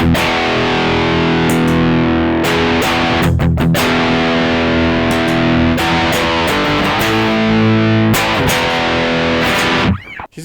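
Electric guitar played with distortion through a Xotic EP Booster pedal, thick sustained chords and ringing notes throughout, loud and close, cutting off abruptly at the end.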